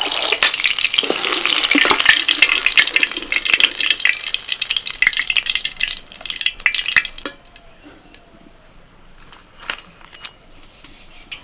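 Hot oil sizzles loudly around cabbage pakoras and chicken rolls in cabbage leaves, with stirring clatter. The frying drops sharply after about seven seconds to a quieter, sparse crackle with occasional utensil clinks.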